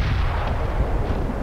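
Game explosion from Angry Birds Star Wars 2, a dense booming blast with rumbling low-end debris that sustains loudly for over a second, no voices.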